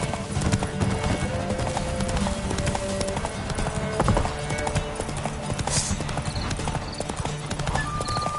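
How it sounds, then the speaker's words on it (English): Hoofbeats of a horse galloping at full speed in The Witcher 3, a steady rapid clip-clop running throughout with a brief whinny, over game ambience and music. "Take your mount to her limits!"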